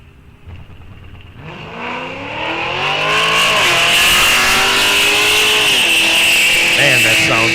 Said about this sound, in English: Man, that sounds good. That's a neat exhaust on that car.